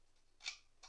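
Scissors snipping strips of paper for a hanging Christmas decoration, two short crisp cuts about a third of a second apart, close and fairly quiet.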